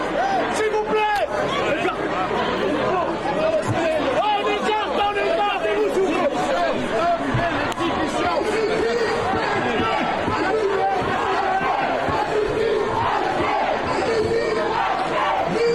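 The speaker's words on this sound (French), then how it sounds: "La foule scande Justice Ponel lors de la marche blanche." A large crowd at a white march for Nahel chants in unison, loud and close, with rhythmic shouted slogans over constant babble and scattered yells.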